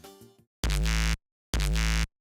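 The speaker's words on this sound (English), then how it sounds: "It's called Bass Dropper, and I turned on the legato" A stock Serum Bass Dropper preset played with legato produces a short tonal lead-in, then two heavy, sustained bass blasts. Each blast cuts off abruptly and is followed by silence.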